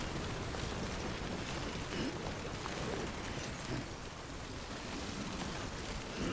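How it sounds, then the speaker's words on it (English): Rain begins falling in the Death Stranding video game, a dense, even hiss of drops spread across the whole scene, steady and fairly soft with no voices. "The rain is starting as well,"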